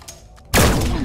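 A loud, close shotgun blast erupts suddenly with a heavy booming tail after a brief quiet, fired in the VR game Vertigo 2 on PSVR2.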